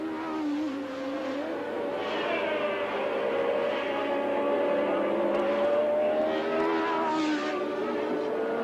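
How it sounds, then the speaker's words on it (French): Formula One race cars at the 1981 Austrian Grand Prix give a sustained, loud engine scream, pitches rising and falling as cars pass and overlap throughout, with no speech heard. "Lafitte passe Jarier"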